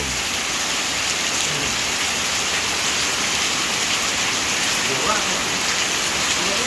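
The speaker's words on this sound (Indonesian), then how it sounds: "Lah ya pol hujane iki lho." Heavy rain pours in a dense, steady roar that stays loud and even throughout, with no voices heard.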